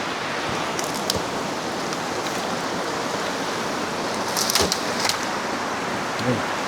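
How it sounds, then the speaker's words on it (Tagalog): Strong stream water rushing outdoors near a homemade hydro power setup, a steady loud broadband roar that stays constant throughout, with a few faint brief sounds on top. "Ang lakas ng tubig dito."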